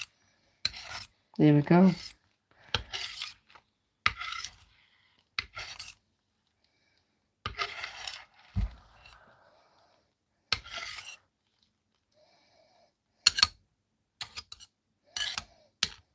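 Dried acrylic paint being scraped off a coaster, with short rasping strokes in irregular bursts separated by pauses, close and fairly quiet, with a brief spoken phrase near the end.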